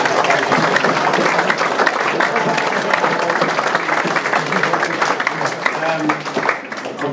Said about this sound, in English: Give a round of applause to Willow again.